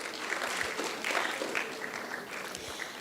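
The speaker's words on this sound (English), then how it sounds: "Give yourself a clap." Moderate, fairly distant clapping from a youth symposium audience, a steady patter of many hands that swells and eases without any voices.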